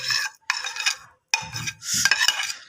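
Crushed tomatoes added to a hot pan with ginger-garlic paste, then stirred with a utensil scraping the pan in several short bursts with brief pauses, soft sizzling beneath.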